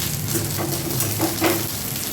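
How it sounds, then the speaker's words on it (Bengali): Raw rice sizzling and crackling as it is lightly fried for pulao, a steady hiss with scattered pops and light stirring scrapes, close up with no talking. "হালকা ভেজে নিচ্ছি চাল সব সাদা ফটফটে হয়ে যাচ্ছে ফটফট করে আওয়াজ হচ্ছে"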